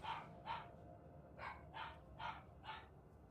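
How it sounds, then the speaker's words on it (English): Dogs bark in the distance within an underground lab in the horror game Outlast, six evenly spaced barks, fairly faint, over a low ambient drone. "Can y'all hear the dogs barking?"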